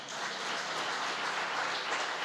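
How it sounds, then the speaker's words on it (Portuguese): Church congregation at a Sunday evening service applauds together, a dense, even wash of clapping heard from across the room. "Eu queria que a gente aplaudisse ao Senhor."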